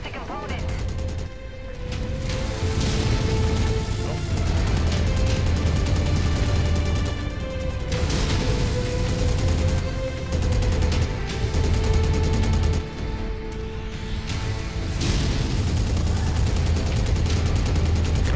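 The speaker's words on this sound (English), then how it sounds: "I'm taking on heavy fire." Heavy gunfire pounds a mech in MechWarrior 5: Mercenaries: a loud, continuous barrage of rapid shots and impacts over low rumbling machinery, with brief pauses, dense and close throughout.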